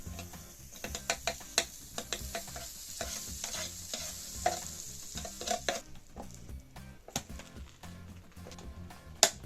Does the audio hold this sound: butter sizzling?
yes